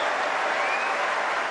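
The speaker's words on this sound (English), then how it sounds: "Listen to that crowd." A tennis crowd applauds at a match, a loud, steady wash of clapping filling the whole moment without a break.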